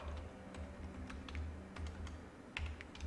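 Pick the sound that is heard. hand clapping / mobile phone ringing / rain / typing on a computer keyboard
typing on a computer keyboard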